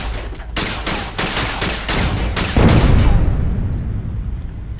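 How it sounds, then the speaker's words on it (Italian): Gunfire and a blast in the sci-fi shooter Alien Breed Impact: a rapid burst of loud, close shots gives way to a heavy, rumbling explosion that slowly fades out. "Facciamo esplodere sta robaccia qua"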